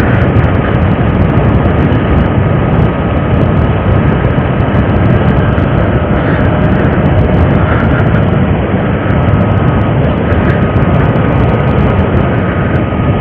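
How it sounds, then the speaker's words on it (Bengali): A train passes overhead on a line toward Dankuni near Dakshineswar, a loud steady rumble filling the whole clip without pause, with no talk over it. "উপর দিয়ে ট্রেন যাচ্ছে বন্ধুরা, ডানকুনি যাচ্ছে"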